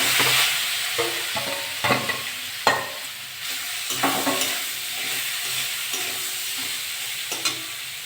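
Mashed elephant foot yam frying in oil for a tamarind chutney, sizzling steadily close up with repeated scraping stirs and small clatters throughout.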